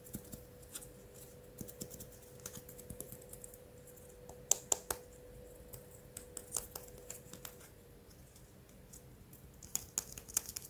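Typing on a PC keyboard, with irregular light clicks and taps running steadily and quietly over a faint background hum.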